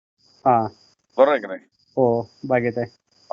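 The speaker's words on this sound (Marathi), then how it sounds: "रातकिड्यांचा आवाज येतोय, अजून तुम्ही बागेत राखण करताय" Crickets chirp at night in a pomegranate orchard, a thin steady high pulsing trill that runs continuously and faintly beneath close conversation between two men.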